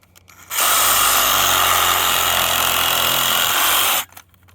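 A Ryobi power tool cuts through a root while a juniper hedge is being planted, one loud, steady, close burst of about three and a half seconds that starts and stops abruptly.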